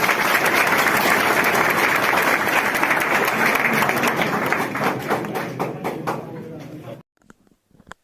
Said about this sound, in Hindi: आप लोग अपने खुद के लिए एक बार ताली बजाइए